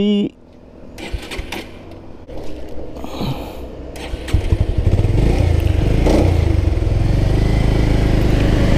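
A Bajaj Pulsar Neon 150 motorcycle that had stalled on low fuel fires up again and runs, its engine building from rough clatter into a loud, steady near drone.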